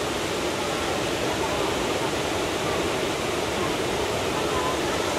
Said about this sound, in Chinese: 水的声音好大。